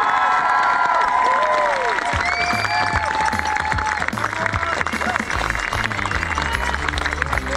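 Outdoor crowd applauding and cheering at the finish line of a Perth to Melbourne charity run for cancer research, steady loud clapping and whoops throughout with children shouting and voices mixed in.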